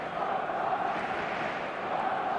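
Stadium crowd in an eFootball match roars and chants steadily, a dense, continuous wash of massed voices at even loudness throughout.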